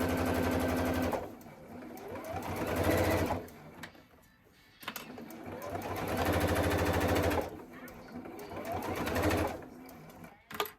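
A sewing machine stitches a zipper at a 2.4 regular stitch, running in three sustained whirring bursts with brief pauses between, close and fairly loud.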